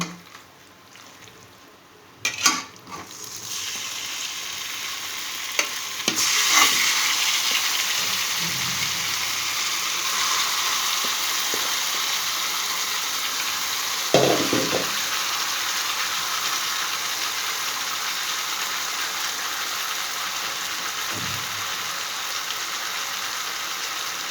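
Chalta pickle mixture stirred in a pan of oil with browned garlic and fried mustard seeds, a steady frying sizzle throughout with occasional scraping knocks of the spoon against the pan.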